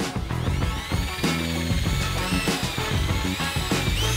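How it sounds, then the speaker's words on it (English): A power drill whirs loudly and continuously boring into red oak, its pitch dipping briefly as it bites into the wood, with a bit of grinding underneath. "And so then we'll drill it in."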